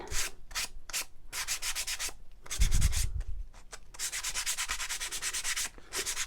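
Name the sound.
sanding the sides of a wooden shiplap platter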